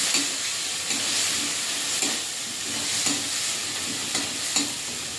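Spice paste with ground cumin paste and tomato fries in a pan, a continuous close sizzle with soft rhythmic stirring bumps over it and no speech.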